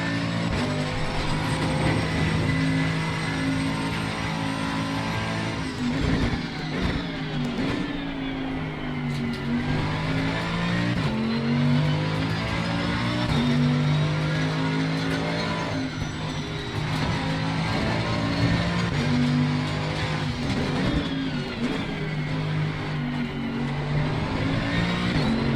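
A Mercedes-AMG GT3 race car engine in Assetto Corsa Competizione at Kyalami, loud and close, revving high through gear changes with rising and falling pitch sweeps across the whole stretch, no talking.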